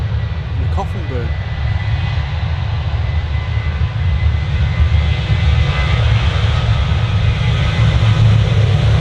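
Jet airliner engines at full thrust on a takeoff roll at Manchester Airport: a loud, steady, broad roar with a deep rumble that holds throughout, and a brief voice near the start.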